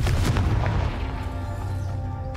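A Confringo spell explodes in the Hogwarts Legacy video game: a loud, close, rumbling blast that rolls on and slowly fades.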